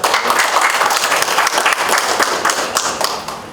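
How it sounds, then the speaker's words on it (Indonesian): An audience applauds to welcome a speaker at a political party gathering, giving dense, sustained clapping from many hands that stays loud throughout and tapers slightly at the end. "Selamat datang Bapak, kita beri aplaus."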